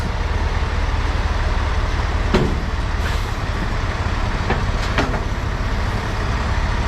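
A truck idles and creeps slowly forward, its low, steady diesel rumble dense and continuous close by, with a couple of brief clanks or air-brake hisses over the engine drone.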